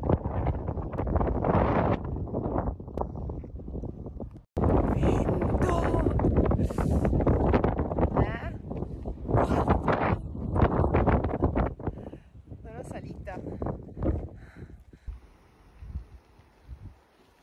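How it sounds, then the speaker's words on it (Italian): Strong wind gusts roar and buffet the microphone while riding a motorcycle up the coastal D400 road in Turkey, a loud continuous rushing that surges and eases in waves, briefly cut off once, fading lower toward the end. "le folate di vento sono sempre più forti"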